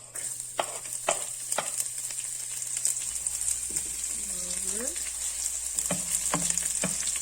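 Garlic fries in a pan with a steady bright sizzle, punctuated by a few sharp clicks and scrapes of stirring and some brief tonal squeaks partway through, close and alone.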